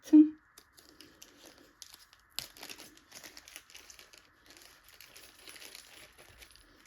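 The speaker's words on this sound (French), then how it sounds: "On va ouvrir le toolkit." A toolkit's packaging is opened by hand: close, crisp plastic crinkling and tearing come in irregular bursts, starting with one sharp rustle and then continuing in quieter bouts.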